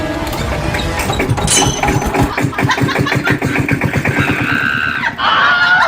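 After a push-start, an old engine catches and runs with a loud, rapid mechanical chugging that turns rough and uneven and then settles. The sound is close and fills the whole stretch.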